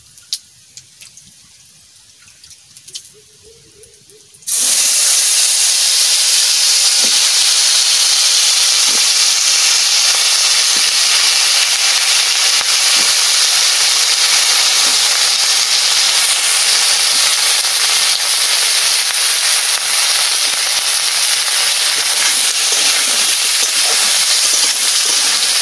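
Cumin, bay leaf, radish and potato hit hot oil, setting off a loud, sudden sizzle that runs as a steady, dense hiss for about twenty seconds after a quiet start.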